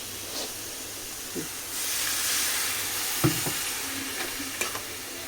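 Spice paste sizzles and hisses in a frying pan with very little oil, a close, steady steamy crackle with occasional sharp clinks and stirring scrapes, no voices over it.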